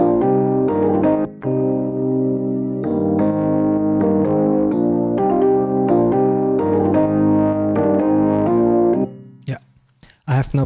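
Electronic organ parts from a dance-pop remake of a song, sustained chords with rhythmic fills in a full bounced mix, steady and loud for about nine seconds before cutting off into brief bursts.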